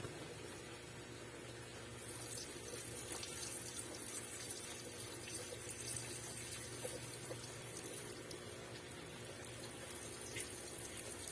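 Water steadily drained and pumped from a goldfish breeding tank, a continuous low trickle and gurgle with faint bubbling that holds at an even, quiet level throughout.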